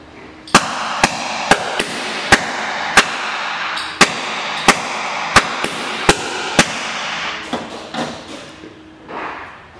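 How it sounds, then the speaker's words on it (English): Gas flashbacks ignite inside a torch line that has no flashback arrestor, giving about a dozen sharp, loud pops at fairly even intervals. A rumbling noise trails off after the last pops. "So when somebody is operating at a workpiece, a flashback is created."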